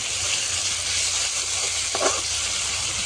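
Fish fries in a covered pan for a home fish curry, giving a constant, fairly loud hiss with a brief crackle near the middle and no speech.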